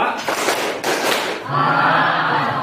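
A group of people claps a second hand-clapping pattern in quick successive bursts over the first second and a half, followed by a voice speaking.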